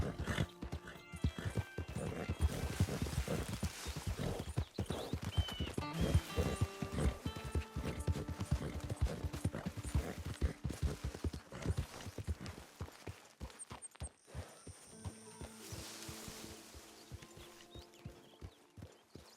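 Horse hooves walking in Red Dead Redemption 2, a steady close clip-clop rhythm with a whinny partway through, the hoofbeats becoming sparser and more distinct toward the end.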